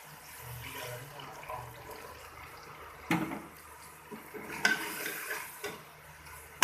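Water poured into a pot of dal gosht cooking in a village kitchen, a soft splashing pour with clinks and scrapes of a utensil against the pot, close and quiet.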